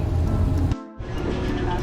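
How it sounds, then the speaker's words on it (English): Rain on a highway in Jamaica makes a steady, loud wash of spray and road noise that briefly drops away near the middle before returning. "And it is a rainy day on the highway."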